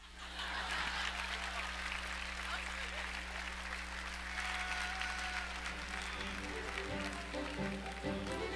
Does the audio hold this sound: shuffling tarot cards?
no